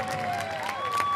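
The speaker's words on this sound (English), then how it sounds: "Big applause for" A crowd at an outdoor plaza concert applauds and cheers, with clapping blended under a few sustained tones that drift in pitch.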